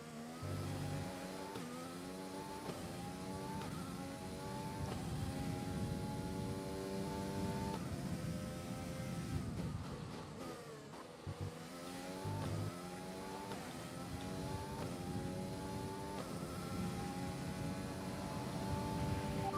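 An F1 car engine in a racing video game, revving and shifting through gears in repeated rising sweeps, loud and continuous with a short lift-off in the middle, no talking.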